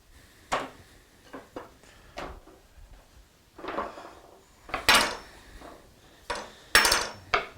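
Plates and dishes clatter in a home kitchen as one is taken out, a burst of sharp ceramic clinks and knocks coming in uneven clusters, close and fairly loud, with no talking.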